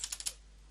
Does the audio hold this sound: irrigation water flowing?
no